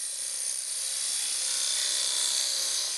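A turning tool cuts a wooden yoyo on a wood lathe, giving a steady, bright hissing shear of wood with no pauses.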